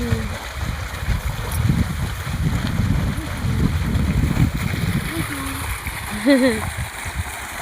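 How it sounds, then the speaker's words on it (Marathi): Irrigation water pours and splashes onto a sugarcane field, a steady rushing wash under wind buffeting on the microphone, with voices talking nearby and a bird call now and then. "कसं पडायले पाणी"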